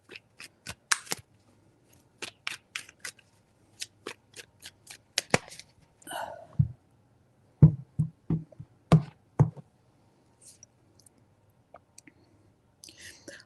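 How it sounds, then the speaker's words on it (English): Tarot cards shuffled in separate bursts of crisp riffling and soft slaps, close and quiet, with pauses between the bursts over a near-silent background. "3 shuffles."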